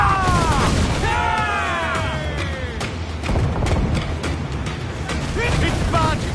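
Ship cannons fire in a naval battle in Assassin's Creed Black Flag, with deep booms rolling under continuous battle noise, shouting crew voices and ship sounds.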